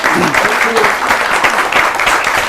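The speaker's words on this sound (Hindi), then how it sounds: "एक बार जोरदार तालियां बजाइए ममता जी के लिए" An audience at a Holi kavi sammelan poetry gathering applauds a poet, steady dense clapping filling the whole stretch at close range, with a voice briefly speaking over the start.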